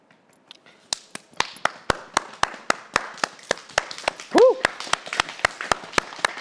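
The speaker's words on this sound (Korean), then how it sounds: "박수." A single person clapping in a slow, even rhythm, roughly two claps per second, crisp and close, with a brief vocal exclamation midway.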